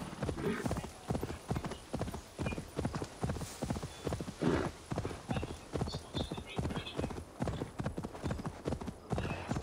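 Steady clip-clop of horse hooves trotting in a quick, even rhythm in the video game Assassin's Creed Valhalla, fairly loud and close, with a faint whinny partway through.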